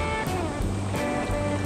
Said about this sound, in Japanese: その堰から流れてくる、滝のような感じですね